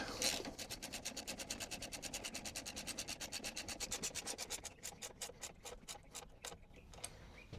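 A bolt on a Honda CRF300L motorcycle foot peg bracket is tightened with a ratchet, giving a long fast train of even clicks that slows into separated strokes near the end, close and fairly quiet.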